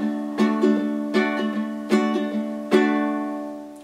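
A ukulele strummed in a repeating thumb, down, up pattern, four bright chord accents each followed by lighter strokes, ringing up close with no talking.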